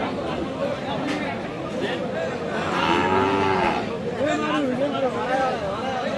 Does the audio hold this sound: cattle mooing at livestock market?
yes